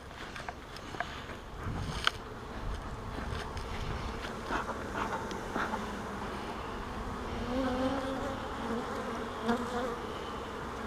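A swarm of riled honey bees drones steadily in a hive nearby, the buzzing dense and unbroken, with a few brief clicks and rustles on top.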